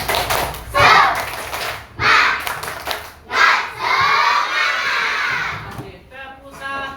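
Children in an Islamic religious education class clap together in rhythmic bursts of the 'tepuk semangat' cheer, loud group claps separated by short pauses, with a voice leading between them.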